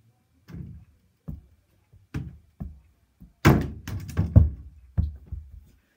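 Small ball shot from across a room at a toy basketball hoop, a series of dull thunks and light bounces, about a dozen hollow knocks at irregular spacing with a busier rattling cluster in the middle, quiet between hits.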